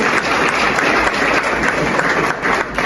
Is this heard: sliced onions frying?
no